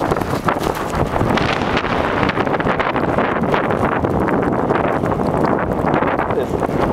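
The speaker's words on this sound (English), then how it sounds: "Man, this wind's blowing so hard" Strong gusting wind during a February snowstorm roars and buffets the microphone continuously, loud and close, with a voice briefly heard under the rushing noise.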